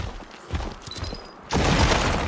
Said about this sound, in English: Nope, the bomb didn't seem to do anything.